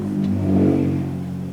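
A loud car with a throaty muffler passes by in street traffic outside, its deep engine rumble swelling as it nears and then easing off over about a second and a half, with no voices.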